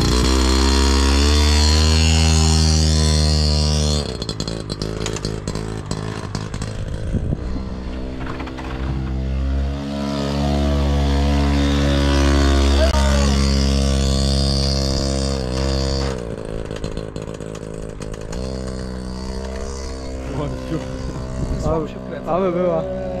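A motorcycle engine revs hard and repeatedly on the throttle close by, its pitch rising and falling between bursts. Voices talk and shout over the engine noise.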